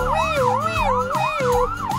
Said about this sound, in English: It sounds like a fire truck siren.